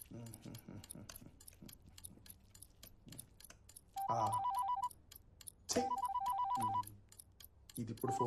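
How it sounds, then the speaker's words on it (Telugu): A phone ringtone chimes in two bursts of a bright repeating melody over a busy stream of clicking and tapping, with a third ring starting just as the clip ends. "ఇది ఇప్పుడు ఫోన్ చేయడం ఏంది?"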